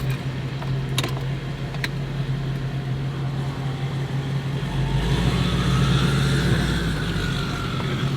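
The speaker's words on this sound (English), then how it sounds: "That turbo sounds so sick." A rare Hummer H1 SUV with a turbocharged engine cruises on the road, a steady low drone with a whining turbo rising in pitch partway through and a few faint clicks early on.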